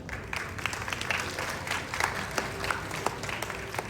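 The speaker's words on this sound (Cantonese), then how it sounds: "等我哋用最熱烈嘅掌聲去恭迎佢哋" Applause from an audience at a school graduation ceremony during a subject-award presentation, steady dense clapping throughout with sharper individual claps standing out, moderately loud and without speech.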